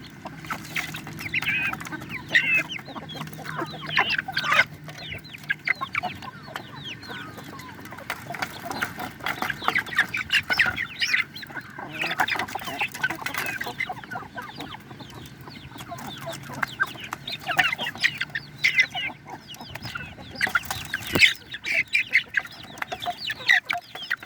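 Several chickens, a hen with chicks and two young roosters, cluck and chatter nearby in irregular bursts, with occasional louder calls over a quiet yard background.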